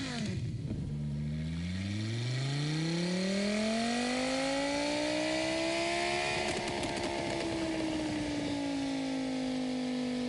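Tomahawk X race car engine in Gran Turismo Sport, a sustained loud rev that climbs steadily in pitch, holds high, then eases back down with a rough buzzing edge, no talk over it.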